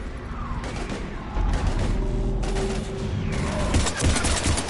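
Gunfire in the video game Mass Effect 3 during a heavy firefight, with dense volleys of rapid shots in overlapping bursts over constant battle noise, some voices mixed in.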